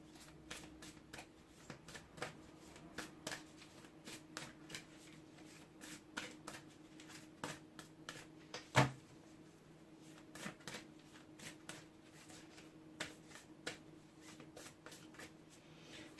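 Tarot cards from a Hidden Realms deck being shuffled by hand, a run of quiet, close, crisp riffling flicks and taps at irregular intervals, one sharper snap midway, no talking.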